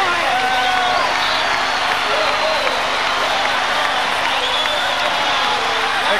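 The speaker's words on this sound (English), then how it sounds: "Listen to the crowd." A capacity basketball crowd at the Glass House roars and cheers after North Melbourne Giants clinch the NBL championship, a dense, steady wall of noise with a commentator talking over it.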